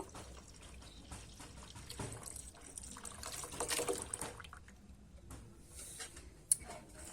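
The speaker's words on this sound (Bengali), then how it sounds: "আগে থেকে জাল করা দুধটা আছে সেটাই কিন্তু দিয়ে দেব" Boiled milk poured into date palm juice payesh, a soft, continuous liquid splash and trickle at moderate distance, fairly quiet, with faint background noise.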